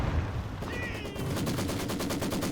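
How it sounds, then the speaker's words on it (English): Heavy mortar barrage in the strategy game Company of Heroes 2, a sudden burst of rapid repeated explosive blasts that starts partway in and keeps rattling densely to the end, loud and close. "heavy mortar a little bit closer this time, so the scatter should be tighter"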